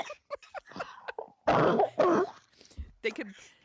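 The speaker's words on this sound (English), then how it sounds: "Make me cough." A couple of harsh, close coughs break out amid brief bits of nearby talking.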